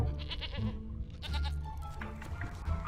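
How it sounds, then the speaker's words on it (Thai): A goat in the video game The Witcher 3 bleats several times in a nasal, wavering cry that stays close and clear, with no talk over it. "เจ้าหญิงเป็นแพะ"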